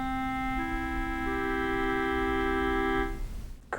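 A tuner app plays a sustained drone chord in equal temperament, with several steady tones layered as more notes join. The chord holds for about three seconds, then cuts off, leaving faint background noise.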